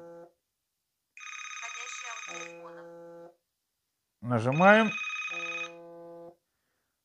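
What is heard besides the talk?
WhatsApp call ringing on Galaxy Watch 4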